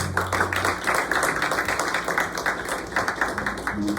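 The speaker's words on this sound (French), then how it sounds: "L'église applaudit Seigneur nous en plus fort." A church congregation claps together during a worship service, a dense, steady patter of many hands sustained throughout at moderate distance, with a low hum underneath.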